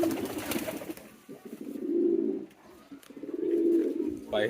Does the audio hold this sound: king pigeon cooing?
yes